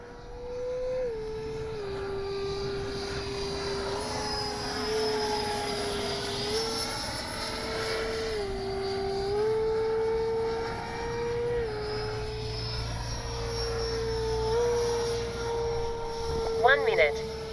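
A Kavan Skyfox L-39 radio-controlled model jet flies overhead, its turbine giving a steady, high whine that rises and falls in pitch as it passes through the air, with a brief rattle near the end.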